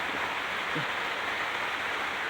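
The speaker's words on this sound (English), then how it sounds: "It just started raining" Steady rain hisses evenly throughout, a constant wash of falling drops with no other sounds standing out.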